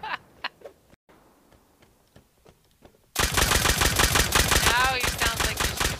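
A voice imitates gunshots, first with a few sharp separate mouth pops, then a loud rapid stream of popping bursts like automatic fire, with a brief vocal trill near the end.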